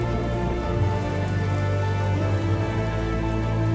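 Steady rain falling on surfaces in a Detroit: Become Human trailer, a dense continuous hiss with a low tonal music bed underneath, even and close throughout.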